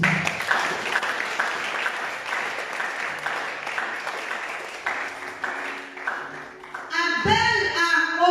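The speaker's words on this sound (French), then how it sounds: "Acclame aussi." Church congregation breaking into applause, a dense sustained wash of clapping that carries through most of the stretch and swells again near the end, with some voices mixed in.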